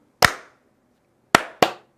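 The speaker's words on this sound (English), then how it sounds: "Will you do a clap on camera?" Three sharp hand claps made on camera for audio sync in a location sound setup: one single clap, then a quick pair about a second later, each crisp and close with a short room decay.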